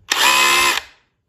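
A DeWalt 20V MAX cordless SDS rotary hammer run briefly in chip mode with no workpiece, one loud, steady mechanical whir of under a second, ending in a quick spin-down.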